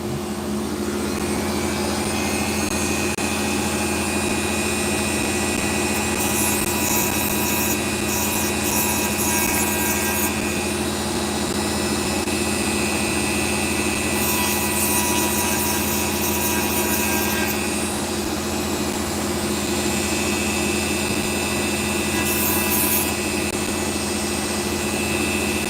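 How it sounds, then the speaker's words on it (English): A Dremel rotary tool grinds an opal, giving a steady high whine with a constant grinding hiss that holds loud and close throughout, no talking. "I'm just going to quickly nip over to the Dremel tool and just get rid of that bow that's sitting underneath it"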